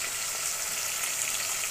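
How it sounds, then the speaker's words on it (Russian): Pork and chunks of potato fry in a pot, giving a loud, steady close-up sizzle with no talk over it. "И тоже будем ее жарить где-то минут 5."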